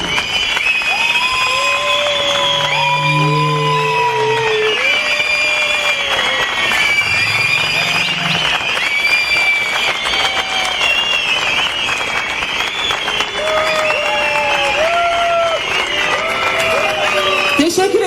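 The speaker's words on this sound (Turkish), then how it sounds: "bir dakika ıslık ve alkışlarla protesto istiyorum" A crowd at a Sivas commemoration rally in Ankara's Anıtpark whistles and applauds in protest, with loud sustained clapping and many shrill whistles rising and falling across the whole stretch.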